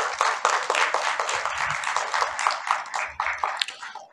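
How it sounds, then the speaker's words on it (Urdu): Audience applause fills a book launch ceremony for Ali Sadaf's book Barfeeli Lakeeren, a steady wash of many hands clapping for about four seconds at moderate level, with no voices on top. "اس بات پہ ان کے لیے تالیاں بجتی ہیں"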